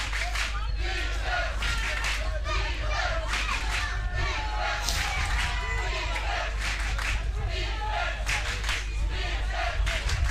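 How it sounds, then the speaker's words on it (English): An animated French crowd cheers on their team during a match against Belgium, with steady rhythmic clapping and shouting that stays loud throughout while a voice talks over it. "animated French crowd cheering their team on."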